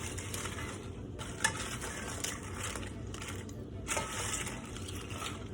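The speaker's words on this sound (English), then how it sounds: "I am going to mix it like this so that the eggs break up and they get all over the tortillas" Salsa is stirred into eggs and fried tortillas for chilaquiles verdes, giving a steady close sizzle with wet scraping and squelching swirls that rise and fall through the stirring.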